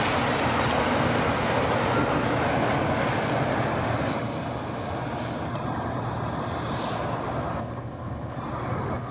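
Train 119 departing a rail yard on a windy day, a loud continuous rumble of railcars rolling past close by, with gusting wind noise mixed in and no voices.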